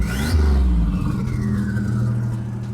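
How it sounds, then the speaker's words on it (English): A 1987 Grand National engine revving hard close by, with a sharp throttle blip at the start that dies away into a steady, rumbling idle. "Let me give it some gas, hold on."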